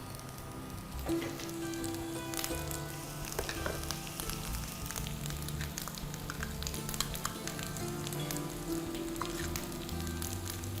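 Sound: ginger and garlic frying with turmeric, chili, salt

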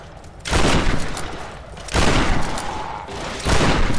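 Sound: shotgun fire at enemies, Tomb Raider video game

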